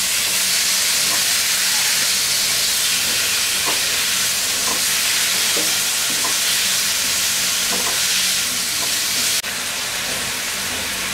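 Soy sauce and fish sauce frying in a pan while a vegetable and chicken roll filling cooks, giving a steady close sizzle and hiss with occasional light stirring clicks throughout.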